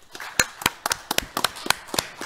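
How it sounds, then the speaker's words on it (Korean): Scattered hand claps from a small audience after two presentations at a Korean policy forum on carbon neutrality and diesel exhaust reduction, a dozen or so sharp, close claps in an irregular rhythm over about two seconds. "다시 한번 박수 부탁드리겠습니다"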